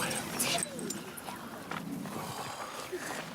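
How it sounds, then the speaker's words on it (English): A dog in a countryside drama scene gives a short bark then whimpers and yips, fairly close, mixed under people talking and some clattering movement. "My snakes are upset by your nasty dog."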